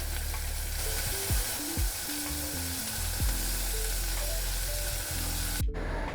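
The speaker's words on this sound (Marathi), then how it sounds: "आता बटाटा घालूया बटाटा घातला आहे आता आपण मटार घालूया" Potato and peas fry in a pan, producing a steady hiss of sizzling oil with a few stirring scrapes, close up; a brief gap near the end interrupts the sound, and nobody speaks.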